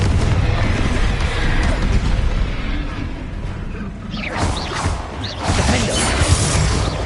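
Confringo fire spells blasting in the Hogwarts Legacy video game, a dense run of booming explosions and crashing bursts, loud and continuous, with sharper cracks flaring after the midpoint.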